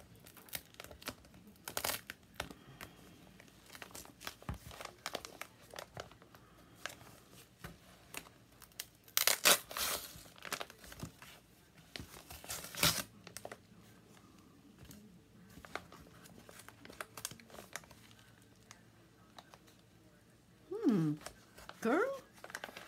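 A duct-taped paper package is being torn open, giving scattered ripping and crinkling bursts with louder tears partway through and near the end, while someone talks now and then.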